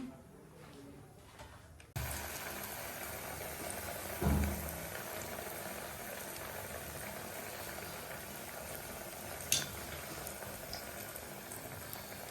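Food dropped into fully heated oil sizzles steadily in a home kitchen while Lohri snacks are fried, a broadband hiss starting abruptly and continuing evenly, with a brief louder burst early on and a sharp crackle later.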